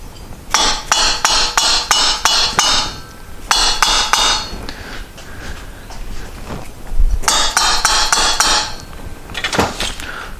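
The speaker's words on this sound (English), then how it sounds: "I'm going to give it a couple love taps with a hammer" Rapid bursts of sharp metallic hammer taps on a valve in a 1973 Moto Guzzi cylinder head, several strikes in each quick series, separated by short pauses, close and loud.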